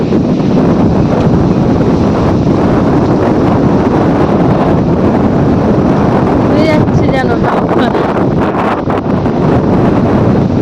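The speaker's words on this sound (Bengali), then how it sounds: "এত হাওয়া দিয়েছে, এত হাওয়া, বিশাল হাওয়া বইছে।" Strong wind blows across open village fields on a morning, a loud continuous rumbling roar buffeting the microphone at close range, while a person speaks briefly partway through.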